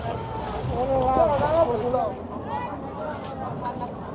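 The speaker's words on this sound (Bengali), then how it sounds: "এই ট্রলার আসছে আজকে দেখেন" A trawler boat arriving at a riverbank near a chars fish market on the Padma, its engine a low rumble buried in wind noise, with a voice speaking over it.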